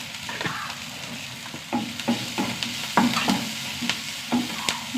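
Onions with curry leaves fry in a pan with a steady sizzle. A spatula stirs and scrapes against the pan in repeated strokes, close and fairly loud, with no talking.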